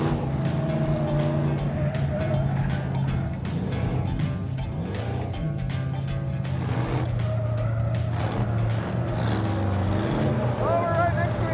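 Engines of project cars, including a Mazda-based build with overheated brakes, roar continuously as they race through a slalom course, loud and close with rising and falling revs while people talk over the noise.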